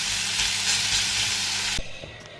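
Food sizzles and crackles steadily in a frying pan, a loud close hiss that cuts off abruptly toward the end, leaving faint quiet kitchen noise.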